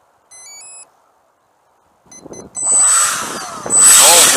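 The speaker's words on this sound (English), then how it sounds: "Now, why is your motor switching?" A drone motor gives short electronic beeps, falls silent, then spins up into a loud, rising whine that surges again near the end.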